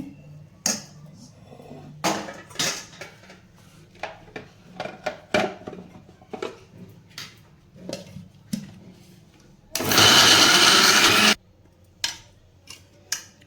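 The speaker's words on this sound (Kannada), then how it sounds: "ಈಗ ನಾನು ಮಿಕ್ಸಿಗೆ ಹಾಕ್ಕೊಡ್ತೀನಿ ಇದನ್ನು" Scattered clinks and taps of kitchen utensils, then a mixer grinder whirs loudly for about two seconds grinding dry red chilli chutney before stopping, followed by more clatter.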